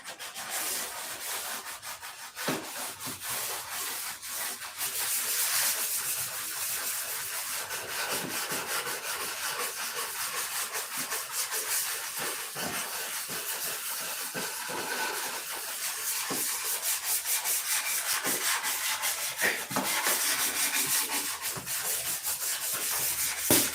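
Wood is dry-sanded by hand in a cold workshop, a steady close rasping scrub with rapid back-and-forth strokes that continues for the whole stretch without speech.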